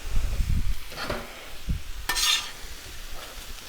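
Potatoes cooking on a Blackstone griddle get turned with a spatula, giving a few scraping and tapping strokes over a soft, close sizzle, with no voices.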